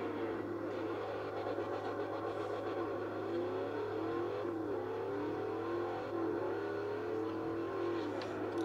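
Ford GT500 muscle car engine roaring in the Forza Horizon video game on an open road, a steady loud drone with rising and falling rev sweeps throughout, no talking.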